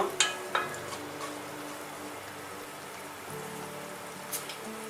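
Shallots or onions sauté gently in a pan as a steady, soft sizzle, with a few sharp clinks and stirring knocks near the start and again toward the end.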